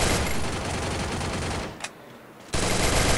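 Rapid continuous gunfire bursts in the video game Free Fire, loud and dense, briefly cutting out before resuming abruptly.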